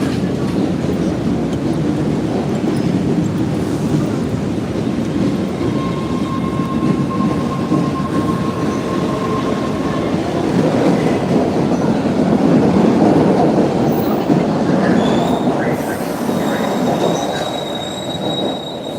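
An MBTA subway train at Downtown Crossing station rumbles steadily and loudly, with wheels squealing on the rails and a faint high tone drifting over the continuous roar.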